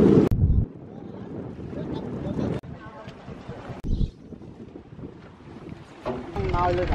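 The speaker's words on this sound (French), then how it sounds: "il y a beaucoup de vent et c'est un peu gris quand même aujourd'hui" Wind blows hard over the open water on a boat trip on a grey day, a steady roar with gusty microphone buffeting that hits loudest at the start and near the end, while people talk throughout.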